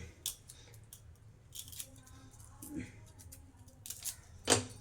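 A knife cuts the head and tail off a garlic bulb in several sharp, close snips and crunches, the strongest coming near the end, while a person speaks softly between cuts.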